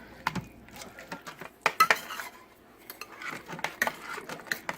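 Mac and cheese stirred with a utensil in an Instant Pot, irregular metallic clinks and scrapes against the inner pot, close and fairly quiet, in uneven clusters.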